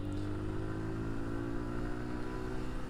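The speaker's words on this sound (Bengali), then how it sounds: "সে এবার হচ্ছে হাই স্পিডে রাইড করবো আমি" A Suzuki Gixxer motorcycle with a carburetor rides at high speed, its engine giving a steady, continuous drone at high revs close to the microphone with no other sounds.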